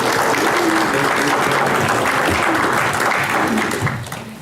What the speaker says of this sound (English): so if we can, quick round of applause